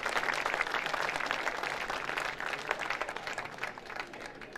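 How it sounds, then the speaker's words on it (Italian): An audience applauds at a Guardia di Finanza concert in Casaprota, with a dense, sustained clapping that fades slightly toward the end, heard without talk. "Sì, un applauso."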